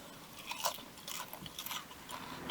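Crispy battered haddock from a fish and chips shop crunches loudly in a string of close bites and chews, with no talking.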